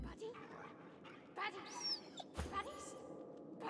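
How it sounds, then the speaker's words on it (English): A caged dog whimpers and yips softly in the video game Divinity: Original Sin 2, thin high whines and small cries rising over a low game backdrop, with a person talking through it. "A dog is quietly curled in the corner of the cage, seemingly trying to make itself as small as possible."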